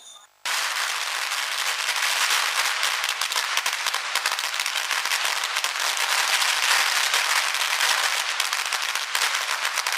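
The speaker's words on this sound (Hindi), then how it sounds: "पटाखे फोड़े और मिठाइयां बांटी।" Firecrackers burst in a dense, continuous crackling barrage at a street celebration rally, loud and close, starting abruptly and running without pause.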